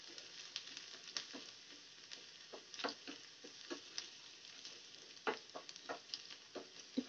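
Thin julienned ginger fries in a small amount of hot ghee, giving a faint, soft sizzle with scattered light pops and crackles throughout.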